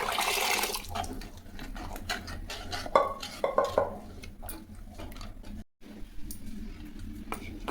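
Clattering of a metal pot and utensils as lentils are poured and stirred in, with scraping and clinks throughout.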